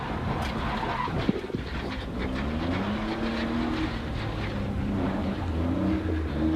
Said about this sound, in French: J'ai bloqué les roues avant.